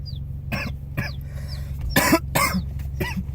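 A man imitates a bird, making a series of short, high chirping and whistling calls broken up by throaty, cough-like bursts in quick repeated sets, close and fairly loud.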